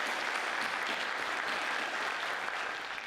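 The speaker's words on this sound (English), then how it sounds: "Kim, I don't know where you are, but we're clapping for you." An audience applauds at a Virginia environmental event, a dense, even wash of clapping that holds steady throughout and thins slightly at the very end.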